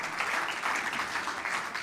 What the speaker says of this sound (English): a round of applause for Tami.